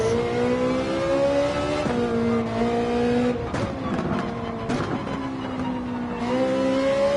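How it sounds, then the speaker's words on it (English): Ferrari flat-plane crank V8 race car in Gran Turismo 7 revving loudly and continuously, with rising pitch sweeps through repeated gear shifts and brief lifts, close and alone without talk. "Ferrari sounding fantastic. Lovely sounding car. Flat plane crank V8 doing its thing."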